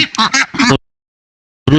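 Pekin ducks, a German Peking Star strain, give three loud, close quacks in quick succession, then fall silent before another quack breaks in at the end.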